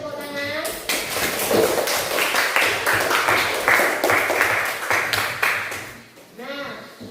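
Classroom applause for a student, a dense patter of many hands clapping steadily for several seconds at close range, with a teacher's voice briefly before and after.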